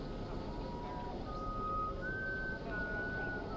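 A thin, steady whistled tone drifts over low ambient rumble in the horror video game House of Ashes, rising slightly midway and holding, faint and continuous with no speech.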